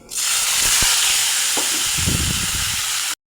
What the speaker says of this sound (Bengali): বেটে রাখা মশলা দিয়ে দেব